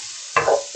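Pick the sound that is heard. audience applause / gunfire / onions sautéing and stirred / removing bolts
onions sautéing and stirred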